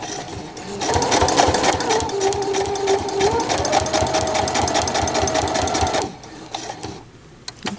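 A sewing machine stitches a quilt block in one loud, close, continuous run of rapid needle strokes lasting about six seconds before stopping, leaving a quiet room.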